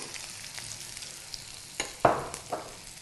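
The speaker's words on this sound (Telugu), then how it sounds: "ఆయిల్లో ఉల్లిపాయ ముక్కలు వేస్తున్నాను" Onion pieces dropped into hot oil in a pan for capsicum tomato curry, with a low steady frying hiss and a few close, sharp sizzling bursts as the pieces land and are stirred.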